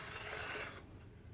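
A hand file stroked across a chainsaw cutter during sharpening, giving one brief, quiet gritty rasp that stops abruptly.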